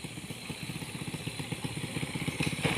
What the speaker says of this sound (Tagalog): Ang mga motor.